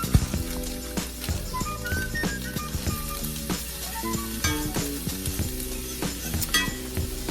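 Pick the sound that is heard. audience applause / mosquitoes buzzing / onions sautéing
onions sautéing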